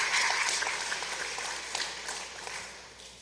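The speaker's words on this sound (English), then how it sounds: "So will we please give her a round of applause?" Applause in the Mississippi House of Representatives chamber, a steady patter of many hands that starts fairly full and slowly fades away, heard at a distance and fairly quiet.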